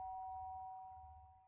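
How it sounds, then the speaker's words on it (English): A doorbell chimes in the video game Danganronpa, a single sustained ringing tone holding steadily and slowly fading over a low hum. "The sharp sound of the doorbell pierced my sleepy haze and pulled me back to the real world."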